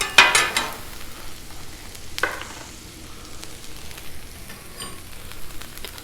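Ribeye slices and garlic sizzle on a Blackstone griddle while being cooked for a Philly cheesesteak quesadilla, with sharp scraping stirs near the start and again around the two-second mark over a steady frying hiss.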